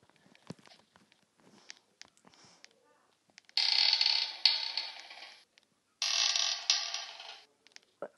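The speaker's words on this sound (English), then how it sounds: "The elevator's closing in!" Elevator doors in a horror video game grind shut in two loud mechanical bursts, each about two seconds long with a rough, creaking scrape, separated by a short pause after a few quiet clicks.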